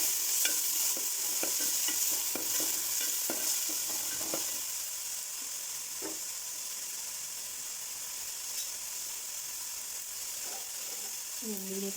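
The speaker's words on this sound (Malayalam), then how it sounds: "ഇതിലേക്ക് ഇനി നമുക്ക് അരിഞ്ഞ് വെച്ചേക്കുന്ന ചെറിയ ഉള്ളി ചേർത്ത് കൊടുക്കാം." Chopped small onions sizzle in a hot pan, with close scraping and clinking from a spoon stirring in quick bursts early on, then a softer steady hiss.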